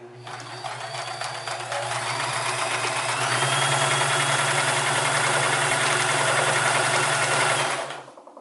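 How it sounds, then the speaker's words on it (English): A Sears Kenmore 158 series sewing machine stitches a 3-point zigzag in red thread on fabric, its motor whirring in a steady buzzing run that speeds up midway and stops abruptly near the end. "Okay, this will be the 3-point zigzag."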